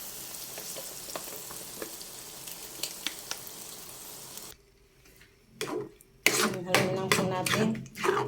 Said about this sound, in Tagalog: Ilalagay na din po natin ang ating spaghetti sauce